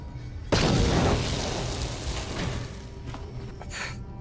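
A frag grenade explodes in the Star Wars: Knights of the Old Republic video game, one sudden loud boom with a heavy low rumble that decays over several seconds, followed by fainter crackling debris.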